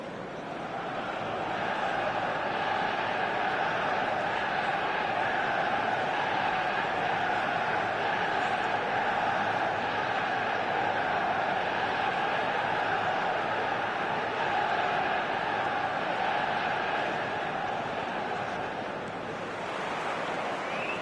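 Stadium crowd in the football video game eFootball, a steady, dense roar of many voices holding at a constant loud level throughout with no individual calls standing out.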